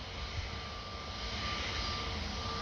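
An Airbus A320 jet taxis toward the runway at Orly airport, a steady distant engine whine with a thin sustained tone over a low rumble, fairly faint and unbroken.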